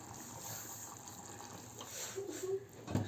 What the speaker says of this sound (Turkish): şimdi pişen köftemizin içerisine şu yapmış olduğumuz sosumuzu içerisine aktaralım